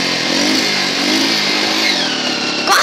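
A Honda CG 150 motorcycle engine is held against the rev limiter with the clutch pulled in, a loud, close, sustained high-pitched buzz that stutters slightly as the limiter cuts, with a brief burst near the end.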